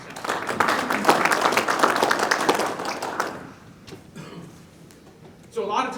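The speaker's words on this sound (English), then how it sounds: "Let's give Troy a round of applause for coming out." An audience at an agriculture presentation breaks into a few seconds of loud, lively applause that fades out. Scattered coughs and throat clearing follow, and a voice starts talking at the very end.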